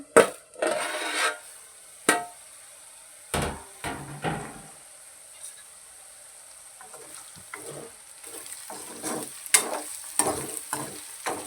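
Ivy gourd sizzles steadily in a pan, broken by sharp clanks and scrapes of a utensil stirring, louder bursts of clatter toward the end.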